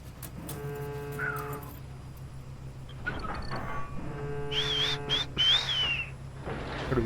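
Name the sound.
whistling in video game Call of Duty Ghosts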